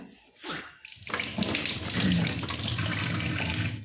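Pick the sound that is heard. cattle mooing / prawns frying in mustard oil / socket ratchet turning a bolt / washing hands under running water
washing hands under running water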